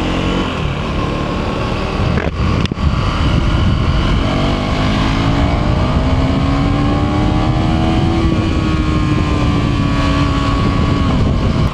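A KTM 390 Duke single-cylinder motorcycle is ridden through traffic, its engine a loud, steady drone that rises and eases in pitch with throttle changes, with constant wind rush and no talking.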